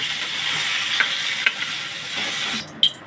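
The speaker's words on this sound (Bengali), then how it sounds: "কাঁচা লঙ্কা আর 5 ফোড়ন দিয়ে ফোড়ন দিলাম। ফোড়নটা হতে দেব।" Dry red chillies, green chillies and five-spice seeds sizzle steadily in hot oil in a wok, a close continuous frying hiss with a few light clicks of stirring, cutting out near the end.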